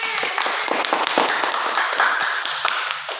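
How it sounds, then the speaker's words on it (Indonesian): Classmates in a classroom clap for a student after a presentation on the human respiratory system, a short burst of close, crisp handclaps from a small group. "Kita beri tepuk tangan untuk Indah, teman-teman."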